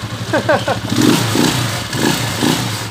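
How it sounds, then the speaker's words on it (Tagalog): A Honda TMX 155 motorcycle runs with a loud exhaust, its close, throbbing engine note holding steady with a clattery edge, while someone speaks briefly over it at the start. "pag umandar na tong TMX 155 dahil medyo yan, mas maingay ang tambutso nito"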